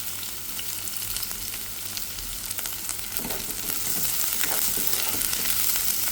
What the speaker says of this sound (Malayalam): പിന്നീട് ചെറുതായി അരിഞ്ഞു വെച്ചിരിക്കുന്ന ഉള്ളിയും പച്ചമുളകും കൂടി ഇട്ടിട്ട് നന്നായി വഴറ്റിയെടുക്കുക.